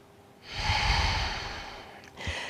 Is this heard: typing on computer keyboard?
no